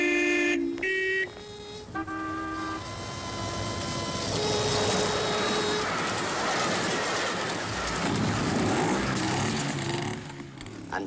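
A train at a railway level crossing in 1958 sounds a series of tooting horn blasts, short then longer, followed by the rumbling, clattering rush of the cars passing close by.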